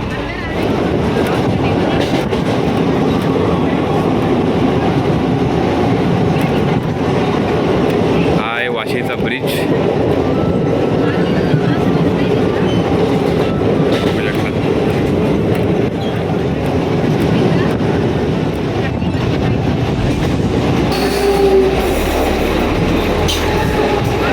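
Continuous rumble and clatter of a train with the echoing din of a busy railway station around it, steady and loud throughout, with voices in the background.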